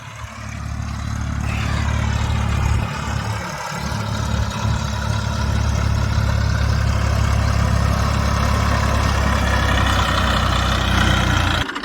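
A Massey Ferguson tractor engine runs steadily on a farm field, a loud, continuous low rumble at constant speed with a slight dip around the third second, and no talk over it.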